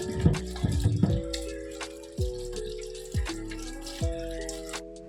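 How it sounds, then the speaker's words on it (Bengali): Okra being washed in a sink under running water, with splashing and pouring and several separate bursts of trickling and dripping, close up and moderately loud. "ভেন্ডিটাকে আমি ভালো করে ধুয়ে নিচ্ছি"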